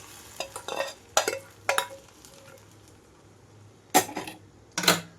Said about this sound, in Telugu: రసం అంతా రోలింగ్ బాయిలింగ్ అవుతున్నప్పుడే తాలింపు అంతా కూడా ఇందులోకి వేసేస్తున్నాం